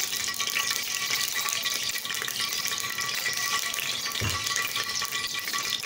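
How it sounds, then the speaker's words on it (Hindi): One cup of cooking oil heats in a pot over a low flame, producing a soft, continuous crackle and hiss with a brief thump partway through. "ये मैंने 1 प्याली कुकिंग ऑयल इसमें शामिल कर दिया। आँच को बिल्कुल मैं लो रखूंगी अभी।"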